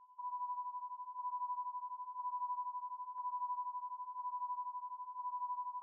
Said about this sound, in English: the verse has this little bell sound that plays out throughout it